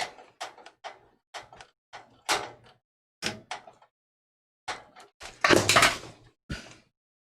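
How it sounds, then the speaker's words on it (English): A screwdriver tossed onto the floor during a PC build gives a run of sharp hard clicks and knocks, then a louder rattling clatter near the end, close by with quiet gaps between hits. "Threw my screwdriver on the floor."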